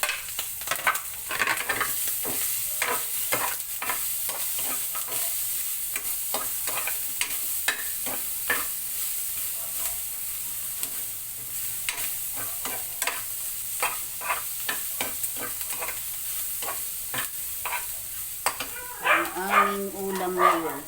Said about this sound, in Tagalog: Minaratot ng sibuyas.